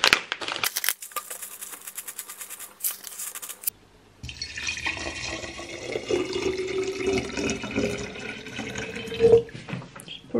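Cool water pours over Gyokuro, a high-grade Japanese green tea, in an off-grid kitchen: a steady close trickle and splash that runs for several seconds after a brief pause, with no voices.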